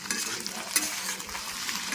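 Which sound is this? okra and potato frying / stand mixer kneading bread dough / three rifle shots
okra and potato frying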